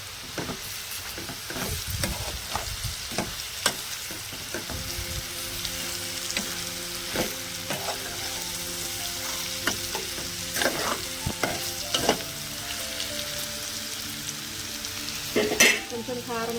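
Large-cut potato pieces fry in a pan, a steady sizzle broken by repeated scraping and clinking stirs of a spatula, close and fairly busy throughout, with no talking.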